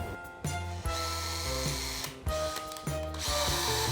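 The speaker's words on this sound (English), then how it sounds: "We're just drilling pilot holes for the screws." A power drill bores pilot holes for wood screws in a wooden market display, its motor whining in several bursts that rise, dip under load and restart, loud and close with no talk.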